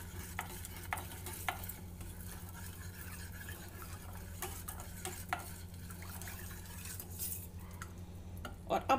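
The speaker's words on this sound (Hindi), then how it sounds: "अच्छे से इसको घोल दीजिए" A spoon stirs rock sugar in a vessel to dissolve it, giving repeated soft scraping and clinking strokes in a quiet kitchen, close and faint.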